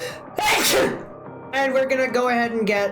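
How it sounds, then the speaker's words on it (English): A woman sneezes loudly and sharply once, close to the microphone, with her own speech before and after it. "those are my sneezes"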